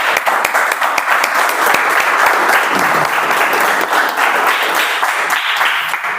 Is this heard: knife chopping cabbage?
no